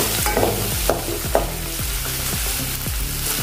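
Chopped tomato is stirred into ginger-garlic paste frying in a pan, a steady sizzle broken by repeated scraping strokes of the spoon against the pan.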